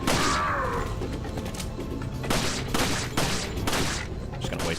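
Rapid bursts of gunfire in the video game Resident Evil 4, a string of loud, sharp shots fired in quick succession, several clustered volleys close together, with no talk over them.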